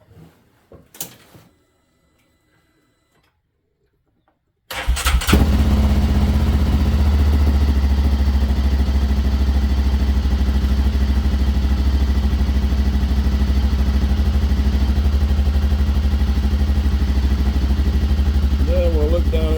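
A Hisun Remington Pursuit UTV engine cranks and starts after a few faint knocks and a pause, then runs steadily at a loud, close idle with constant rumble.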